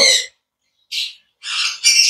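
A female yellow Fischer's lovebird gives four sharp, shrill squawks close by, the first standing alone and the rest coming quicker after a brief pause.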